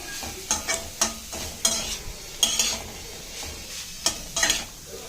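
Crumbled paneer being stirred in a frying pan, a spatula scraping in irregular bursts over a soft, steady sizzle, close and fairly loud.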